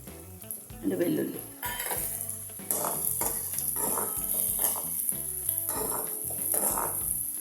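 Onions and garlic fry in a pan at home with a steady close sizzle, broken by repeated scraping stirs and clinks of a spoon against the pan.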